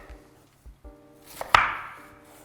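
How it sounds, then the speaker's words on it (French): A knife cuts vegetables into cubes on a board. A few soft low thuds come first, then one sharp, close chop rings out briefly over a faint steady background hum. "je coupe un peu en cubes"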